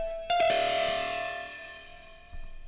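A synth chord swells with a sweeping, whooshing flanger effect that slowly fades, followed by a fresh hit near the end.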